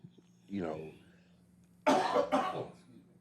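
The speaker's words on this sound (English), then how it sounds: "That's 3 coughs." A brief voiced throat sound, then a pair of harsh, close coughs in quick succession, loud against a quiet room.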